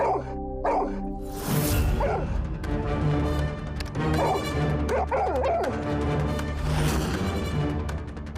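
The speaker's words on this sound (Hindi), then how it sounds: "ये कुत्ता ये बटन दबाने से भौंका क्यों?" A dog barks and yips repeatedly at close range amid a busy sound bed with musical tones, the barks recurring in uneven bursts across the whole stretch.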